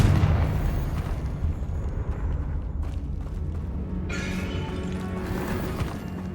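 A Confringo blasting spell explodes in Hogwarts Legacy, a loud booming crash with rumbling debris that tails off into continuing low rumble and crackle.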